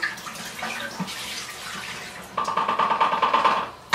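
Liquid glugs and splashes as it is poured out of a film developing tank into a sink, starting soft and growing into a choppy, gurgling stream.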